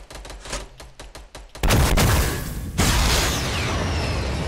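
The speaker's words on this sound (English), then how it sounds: "I'm shooting that shit open, Morgan, so you can go right in that shit." Gunfire in the Fortnite video game: a rapid volley of close, loud shots, then a sudden louder burst of sustained heavy firing and blasts that carries on to the end.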